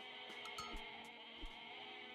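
A goat bleats in a real-time strategy video game, a steady drawn-out bleat over a busy game soundscape with a few sharp clicks and thumps.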